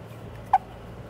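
The tank of an Armageddon MFG King RTA vape atomizer gives a single short, squeaky chirp as it is unthreaded, close and brief, against quiet room background.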